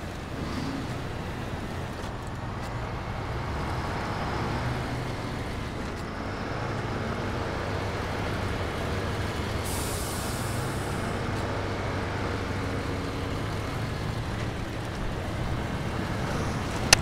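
A car driving on the road, with a steady engine drone and tyre rumble running unbroken throughout, close and even in level, with no talk over it.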